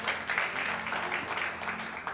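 A church congregation claps steadily throughout, dense and continuous applause filling the room without a break.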